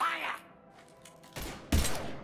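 Gunfire breaks out in the video game Mass Effect 3 as two sharp, heavy shots crack in quick succession after a quieter stretch of dialogue, with a voice heard briefly at the start.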